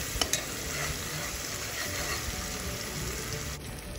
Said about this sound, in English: Stir and cook until the raw smell disappears and the green masala separates from the oil.